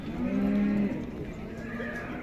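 A single cow lows loudly and close at a livestock market, one drawn-out moo over a busy murmuring background of other animals and distant crowd.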